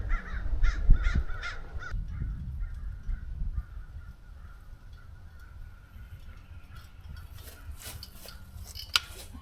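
Several crows caw loudly in a quick series at the start over a pasture, then further scattered caws sound fainter against wind rustle.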